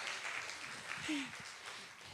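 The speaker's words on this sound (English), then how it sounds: "Can we just give a round of applause for Namaste and Seal Beach?" An audience at a spiritual center gathering applauds in a moderate, continuous patter of clapping, with a brief murmur of voices mixed in partway through.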